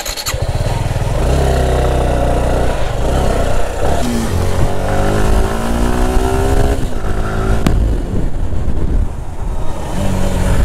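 A Suzuki Gixxer 150 motorcycle ridden up close, its engine rising and falling through repeated revs and gear changes, loud and steady for the whole stretch with no talking.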